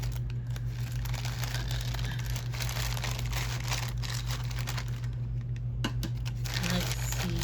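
Crinkling and rustling of plastic wrapping being handled up close, with scattered crisp crackles over a steady low hum.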